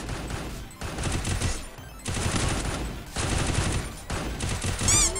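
A Trogon gun in the Free Fire battle royale game fires in rapid automatic bursts, three or four loud rattling strings separated by brief pauses, ending with a sharp chiming effect.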